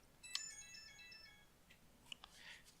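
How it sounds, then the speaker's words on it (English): A phone goes off with a short, faint melodic jingle of bright tones, followed by a few quieter blips, in an otherwise quiet room. "My phone went off."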